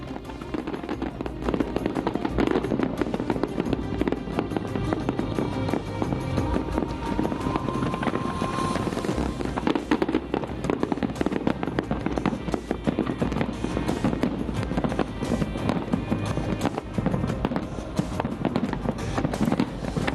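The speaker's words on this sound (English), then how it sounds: "Fireworks being launched from more than 130 sea pontoons, as well as the fireworks that are being launched from those drones" Fireworks launched from more than 130 sea pontoons and from drones during a record-breaking New Year celebration in Ras Al Khaimah crackle and boom continuously, a dense, loud barrage of bursts and pops lasting twenty seconds.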